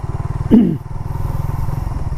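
A freshly washed motorcycle rides along a rough rural road past rice fields, its engine a steady close throbbing drone with a brief louder clattering surge near the start.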